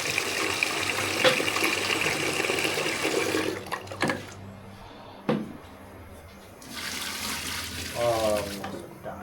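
Water runs from a tap in a home kitchen, a steady rushing stream that cuts off and restarts, with brief clatters and faint voices in the background.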